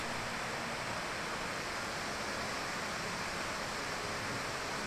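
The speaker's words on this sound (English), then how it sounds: "What a beautiful waterfall." A majestic winter waterfall in Southern Ontario, swollen by heavy snowmelt, gives a steady, dense broadband rush that stays even and unbroken throughout, with no voices.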